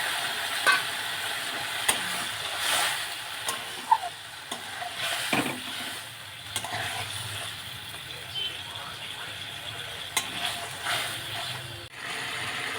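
Spice paste with halved tomatoes and a splash of water sautés for snakehead fish curry, a soft continuous sizzle with scattered stirring clicks and scrapes, moderately quiet throughout.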